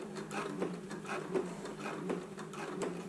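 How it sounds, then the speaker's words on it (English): A sewing machine basting a fly front zipper through all fabric thicknesses, a steady quiet whirring with a regular rapid stitching rhythm, close and alone. "So now let's go to the machine. We're just going to baste it in place right here along the edge"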